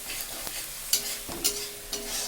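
Nigella seeds tempering in hot oil in a pan for a Bengali pabda fish dish: a steady soft sizzle broken by a few sharp utensil scrapes and taps, close and alone with no voices.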